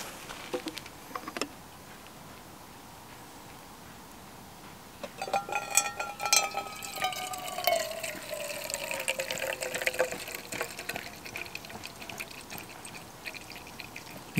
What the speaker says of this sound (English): And now it's just perfect time to just pour some real good coffee.